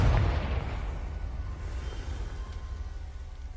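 A Confringo spell explodes in Hogwarts Legacy, a single deep boom at the start that decays into a long rumbling tail.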